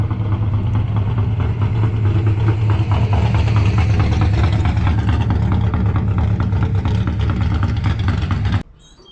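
A Ford Mustang engine, fully warmed up on a main road, drones loudly and continuously with a rough, pulsing irregularity running through it, then cuts away sharply near the end.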